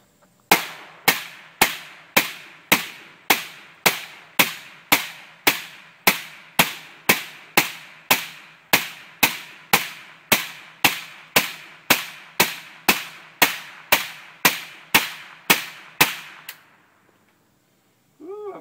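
An AK47 rifle fitted with a Mystic suppressor fires a long, steady string of about thirty evenly spaced, loud suppressed shots, each a sharp crack with a short decay, then stops abruptly into quiet.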